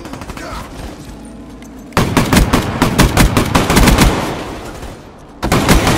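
Haymaker 12 fully-automatic shotgun firing in Black Ops 3, loud rapid repeated blasts in a long sustained string, pausing briefly before resuming, over in-game background noise.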